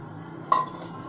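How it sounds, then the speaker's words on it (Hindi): Onion is tipped into a parwal chokha mash, giving a single bright clink of a utensil against a dish over a quiet kitchen background. "अब हम इसमें प्याज डाल देंगे"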